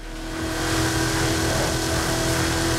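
A Hennessey Camaro Exorcist's supercharged engine accelerates hard at speed, a loud sustained roar with steady rising tone and dense wind and road noise, close and continuous with no talk.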